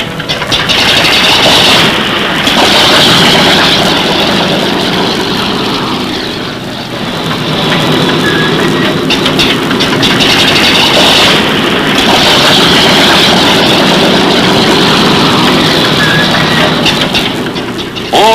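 Loud, continuous roar of a Convair B-36 bomber's six large propeller engines revving, swelling and easing in waves close by, with no voices.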